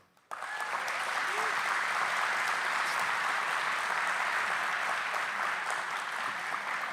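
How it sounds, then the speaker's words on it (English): An outdoor crowd at the groundbreaking ceremony for the new Douglas, Arizona commercial port of entry applauds dignitaries. The clapping starts abruptly and stays sustained and even for several seconds, heard from a moderate distance. "let's give them a round of applause for their presence and for their contributions"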